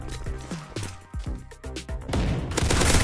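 Rapid gunfire in the video game Valorant crackles as a burst of close, punchy shots followed by a denser, louder volley near the end.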